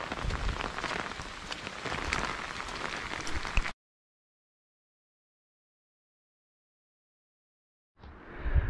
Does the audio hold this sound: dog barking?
no